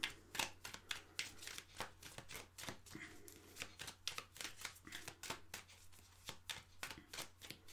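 Tarot cards are shuffled by hand for a reading, giving rapid papery riffles and soft slaps in an irregular rhythm, close and quiet with no talk.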